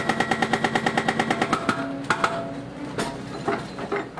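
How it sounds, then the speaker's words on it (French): Rail-road hydraulic excavator working on a construction site during earthworks, with a fast run of regular rhythmic knocks at first, then irregular clanks and bangs over a steady mechanical drone. "On peut entendre le VRH derrière moi."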